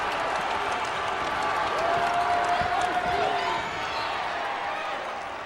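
Basketball arena crowd at a Murray State vs Austin Peay game, a broad, sustained roar of cheering that swells and then eases slightly, with a voice talking over it.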